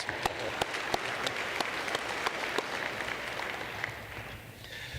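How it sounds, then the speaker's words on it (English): At an engineering and business administration commencement ceremony, an audience claps in a sustained round of applause, with a few sharp, distinct claps standing out over the steady patter before it tapers off. "Yeah, another round of applause."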